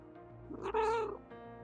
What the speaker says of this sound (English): was that Goober meowing there